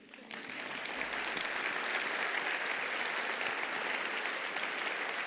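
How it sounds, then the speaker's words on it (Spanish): An audience at a TEDx talk gives a round of sustained applause. Dense clapping builds quickly and holds steady and full throughout. "yo les pido que le demos un aplauso a Tales."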